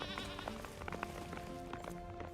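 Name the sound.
goats bleating in the video game Return to Moria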